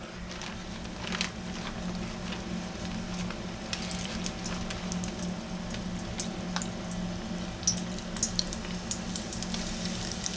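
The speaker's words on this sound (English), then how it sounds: "Yep, she's a frying." Thin chicken breast strips sizzle and crackle steadily in hot oil, a constant close frying hiss dotted with small pops, no voices.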